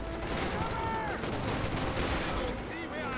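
Rifle gunfire from infantry squads in Company of Heroes 2, a dense, continuous crackle of shots with explosions mixed in, loud throughout, with some game speech underneath.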